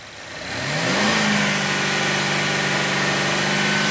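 A car engine fitted with a newly installed MAF sensor rises from idle to a higher steady rev within about a second and holds there, a loud, continuous drone without voices.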